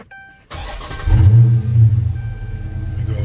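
A Dodge Charger engine fires and revs hard up toward its tuned rev limiter, a loud close rumble that rises quickly and then holds a strained, buzzing high idle.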